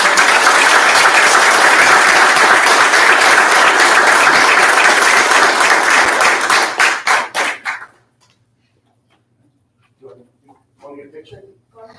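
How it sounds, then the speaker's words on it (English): An audience at a school board meeting breaks into loud, dense applause that holds steady for about seven seconds, then tapers off into silence before brief talking resumes. "one more round of applause"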